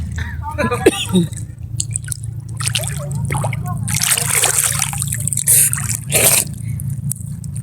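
Sea water splashes and drips around someone bathing at a clear beach under light rain, with irregular close sloshes over a steady low rumble and voices in the background.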